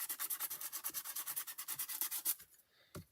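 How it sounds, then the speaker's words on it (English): A regular nail file scrapes back and forth across paper in a quick, even rhythm of about two dozen close rasping strokes, then stops, leaving one last short scratch. "So you can use a regular nail file."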